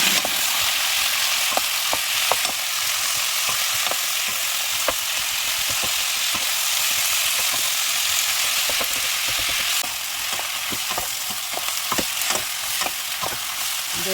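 Vegetables for spicy octopus stir-fry sizzle loudly in a hot pan, a dense steady crackle broken by frequent sharp clicks of a utensil scraping and stirring, close and continuous without talk.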